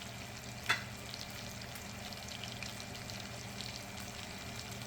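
Halibut fillet searing in a hot pan, a steady low sizzle and hiss throughout with one brief sharp tick early on, quiet and even with no voices.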